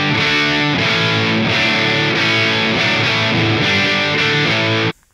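An electric guitar plays heavily distorted, sustained power chords through a Line 6 Helix Mandarin Rocker amp model, modelled on an Orange Rockerverb 100 MkIII, with no reverb. The chords ring loud and thick, change a few times, then cut off abruptly.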